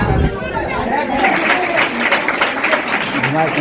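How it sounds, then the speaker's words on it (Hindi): Steady, dense applause fills a hall at a student quiz competition prize announcement, with crowd murmur and chatter mixed beneath the clapping. "जोरदार तालियां"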